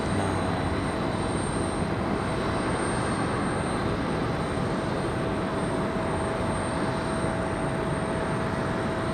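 A Boeing 737 MAX 9 airliner at Raleigh-Durham International Airport gives off a loud, steady jet engine roar with a constant whine, unbroken throughout and with no voices.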